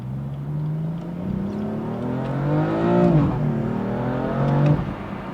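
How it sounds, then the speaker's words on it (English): A BMW M4 with stock exhaust revs and drops through downshifts while exiting a highway, pitch sweeping up and down with a sharp blip near the middle, close and fairly loud. "let's get some downshifts as we're exiting the highway here"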